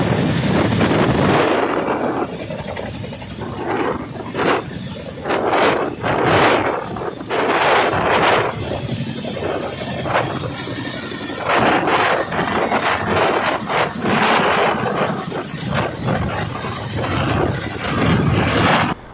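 A Chinook military helicopter lifts off beside a newly built concrete helipad, its loud, continuous engine roar and rotor noise filling the whole stretch with steady pulsing swells.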